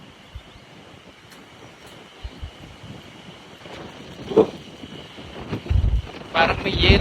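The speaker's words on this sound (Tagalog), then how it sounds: "Ang lakas ng hangin." Rumbling, buffeting wind on the microphone in Nasushiobara, Japan, gusty and growing stronger toward the end, with faint background noise.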